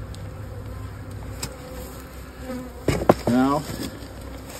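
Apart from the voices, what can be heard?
honeybees buzzing at a hive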